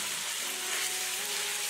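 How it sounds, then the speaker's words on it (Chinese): Chicken shreds being stir-fried in hot oil, a steady bright sizzle and crackle close by, continuous and fairly loud with no voices. "热油，放鸡肉丝快速翻炒"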